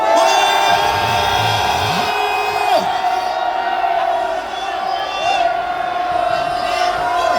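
A crowd at a Korean anti-impeachment rally on a university campus roars, shouting and cheering loudly and continuously, with whoops and cries rising over the din.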